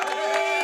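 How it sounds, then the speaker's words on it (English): A brief burst of applause and crowd cheering, played as a sound effect on a markets and crypto talk show, short and steady at moderate loudness. "I have to give the applause"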